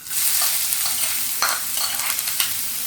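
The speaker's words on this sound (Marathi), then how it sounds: "आता आपण कांदा तळून घेऊया." Onion frying in a pan makes a loud, continuous hiss and sizzle up close, with a few stirring scrapes and clicks of a utensil over the steady crackle, and no speech.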